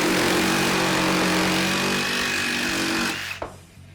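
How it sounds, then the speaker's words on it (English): A RIDGID 18V OCTANE jigsaw (R8832B) cuts through wood with orbital oscillation set to maximum, giving a loud, steady, rasping buzz for about three seconds before it abruptly winds down and stops. "let's cut a piece of wood here with the oscillation all the way on"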